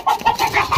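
A hen gives a quick run of short, nasal clucks, close by and fairly loud, with no talking over it.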